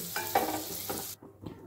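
About a teaspoon of butter sizzles in a frying pan already used to fry baby corn, with a brief close hiss and a stir or two, then it cuts off abruptly.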